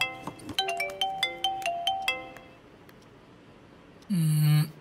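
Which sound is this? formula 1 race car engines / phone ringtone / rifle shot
phone ringtone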